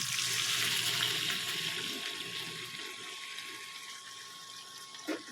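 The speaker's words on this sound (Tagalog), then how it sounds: "lagyan po natin siya ng kaunting tubig" Water pours into a pot of spicy chicken curry, a steady faint rushing stream that slowly softens, ending with a small knock.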